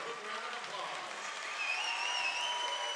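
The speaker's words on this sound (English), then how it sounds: "let's give our homecoming court a big round of applause." A crowd applauds the homecoming court at a Floyd Central High School homecoming in 2019. The clapping is faint and distant, a steady even wash with a thin sustained tone riding over it, and talk sits beneath it.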